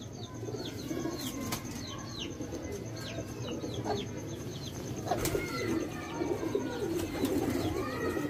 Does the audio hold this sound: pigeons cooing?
yes